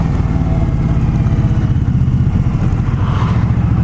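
An Indian Scout motorcycle engine rumbles loudly and steadily underway on a group ride, a deep pulsing drone with a slight rise in revs near the end, with wind noise mixed in.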